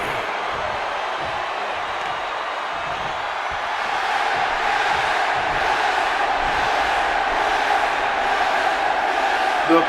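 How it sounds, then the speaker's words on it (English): A wrestling crowd in Philadelphia roars and chants steadily before a championship match, a dense wash of cheering that swells louder midway, with an announcer's voice faintly beneath. "The crowd is fired up. The yes chants have erupted in the ring."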